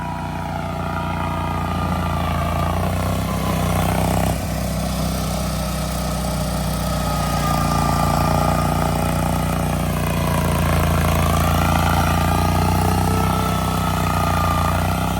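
Altoz 766 and 561 and Scag Cheetah zero-turn mowers run steadily outdoors, a loud continuous engine drone with a slight dip in pitch midway and gradual swells as the machines work a hillside, no talking.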